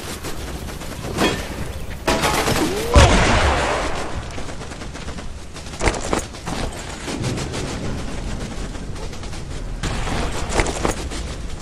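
Gunfire from enemies in the jungle shooter Raven Squad: Operation Hidden Dagger, with loud sharp shots and rattling bursts scattered across the stretch and a heavier boom early on, over a dense, noisy battle backdrop.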